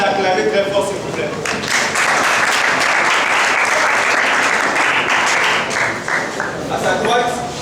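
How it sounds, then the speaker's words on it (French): A large crowd of University of Kinshasa students applauds and cheers loudly and steadily for their student coordinators. The dense, continuous clapping fills the hall, with voices mixed into the ovation. "je vous demande d'acclamer très fort, s'il vous plaît"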